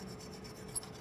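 A wire brush scrubs fire scale off a freshly welded steel vessel in one brief, close, raspy scrape.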